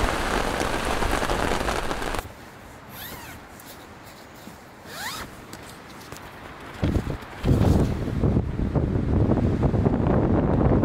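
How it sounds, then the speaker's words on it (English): A strong wind storm in Algonquin buffets the microphone with loud, rushing gusts and rain-like patter that drop off briefly and then surge back, with no talking. "Wind just kept on going."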